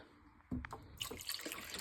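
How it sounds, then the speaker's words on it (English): Chicken broth pours from a box into a soup pot of garden tomatoes for sweet pepper orzo soup, a sudden splash then a steady close trickling flow with no talk. "And then I'm going to add some chicken broth."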